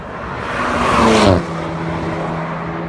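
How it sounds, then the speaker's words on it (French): An Alpine A110 sports car arrives and sweeps past close by, its engine note rising to a loud peak and then dropping away into a steady, lower rumble. "La voiture arrive."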